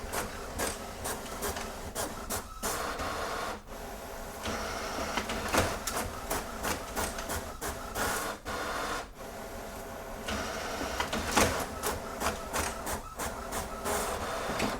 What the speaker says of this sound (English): The printer will take each of these pages one by one without you having to do anything.